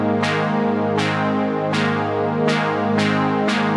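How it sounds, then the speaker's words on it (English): A Jupiter Synth Brass preset, layered with distortion and reverb, pulses in steady, evenly spaced stabs over a thick sustained bed, loud and full, with no voices present. "The last layer we have here is also from the Jupiter. It's called the Synth Brass preset."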